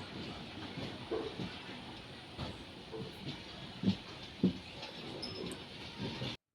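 The Nilgiri Express train rumbles along slowly near Chennai with a low continuous roll, occasional soft clanks and a faint hiss, no voices.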